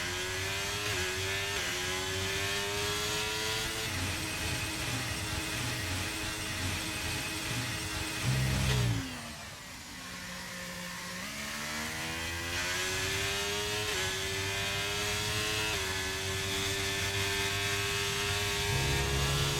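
Racing car engine in a sim racing game, Bahrain circuit, screaming at high revs in second gear, with a steady rising whine that drops sharply at a gear change or lift partway through, then builds again; loud and continuous with no talking.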